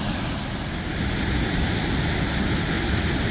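A small waterfall in a Wisconsin state park gives a steady, even rush of falling water, a continuous broadband hiss heard close by with no voices over it.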